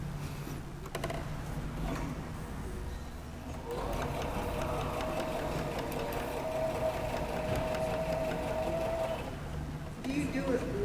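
A sewing machine stitches a quarter-inch seam along a fabric edge, its continuous mechanical hum and needle chatter running close and steady throughout, with quiet talk in the background.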